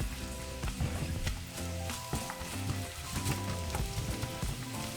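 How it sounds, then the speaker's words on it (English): Onions sizzle and fry in hot oil, a loud, steady crackle with bursts of stirring and scraping in the pan, and no voices. "once our oil is hot, I'm going to add my onions"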